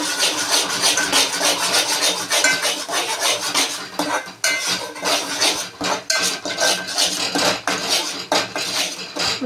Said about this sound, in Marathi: आता मसाला जरा फ्राय होऊन द्यायचा आहे.